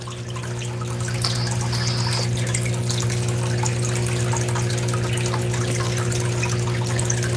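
Steady running water while panning for fine gold, a continuous close wash and trickle with a low, even hum beneath it, no voices.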